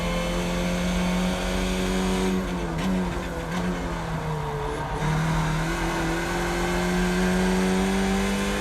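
Skip Barber race car engine in iRacing at Long Beach, droning loud and steady near the listener with pitch shifts as the throttle lifts and returns, a brief dip around mid-clip before revving back up.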